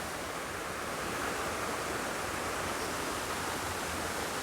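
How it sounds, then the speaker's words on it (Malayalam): Waterfall behind a temple in Kerala: a constant, even roar of falling and rushing water, loud and unbroken throughout, with no voices. "ആ ഒരു വെള്ളച്ചാട്ടം ഇങ്ങനെ വന്ന് ഇതിലേ കൂടി ഒഴുകി അതിലേ കൂടി അങ്ങ് പോവുകയാണ്"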